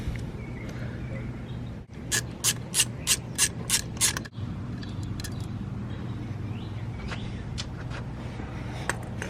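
Hand tools work on a car's mass airflow sensor close by, with a quick series of about eight sharp ratchet clicks, then scattered metallic taps and handling over a low background hum. No one talks.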